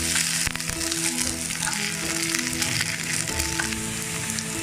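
Okra sautéing in a hot pan for a buttermilk curry, a dense continuous sizzle and crackle with occasional stirring scrapes, close and steady with no talking.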